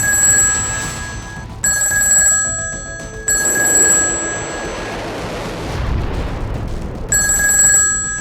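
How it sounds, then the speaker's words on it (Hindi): A telephone sound effect in a news report, with a loud electronic bell ringing in repeated bursts separated by short pauses and a low rumble under the gaps, no speech. "इजरायली प्रधानमंत्री बेंजामिन नेतन्याहू ने न्यूयॉर्क से एक फोन किया"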